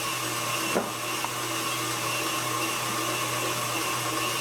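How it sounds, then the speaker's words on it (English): Steady electric mixer or blender whirring through dry cake ingredients for a chocolate raspberry buttermilk pound cake, a loud continuous motor drone with a brief clunk near the start. "And we're just going to blend this together."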